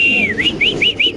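Fancy pigeons give a quick series of close, loud, whistling calls, each rising and falling in pitch, about five in rapid succession.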